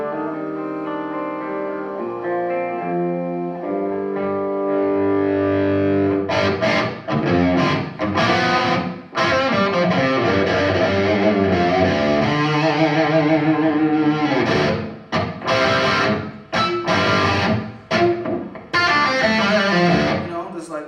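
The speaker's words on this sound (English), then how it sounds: "you can get those kind of crunchy tones and then you can go full blast" An electric guitar with a Seymour Duncan pickup plays at a guitar show in Copenhagen, first sustained chords with a crunchy distorted tone, then louder, saturated riffs with choppy stops and restarts.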